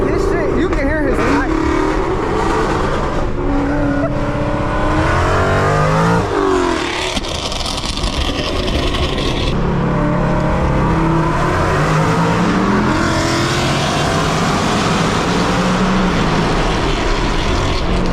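Loud car engines rev and roar up close at an EV cruise, rising and falling in long pulls beneath excited voices talking over them.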